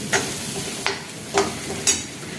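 Spice masala of ground roasted peanuts being dry-roasted in a pan for a brinjal curry, with a faint soft sizzle and four distinct scraping strokes spaced about half a second apart.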